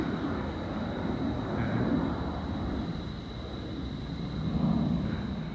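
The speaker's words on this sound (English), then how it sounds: "Yeah, the Southwest plane." A Southwest Airlines passenger jet flies over near Midway Airport on a sunny hot day, producing a steady, loud, broad engine roar that swells slightly and holds throughout without talk.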